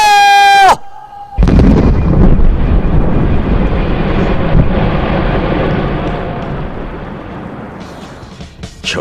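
A ceremonial firing blast set off on command at a regional industry event in Kimhwa County opens with a rising whistle, then a sudden loud booming roar rumbles on for several seconds before thinning out toward the end.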